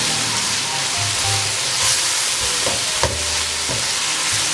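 Minced meat (qeema) with potato and green peas sizzles loudly in a pan while it is stirred, a constant close hiss broken by a few clinks and scrapes of the spoon.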